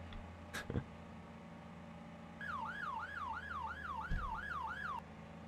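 A police car siren in Farming Simulator 19 wails, rising and falling in a steady, rapid cycle for a few seconds, fairly faint, with a couple of sharp knocks around it.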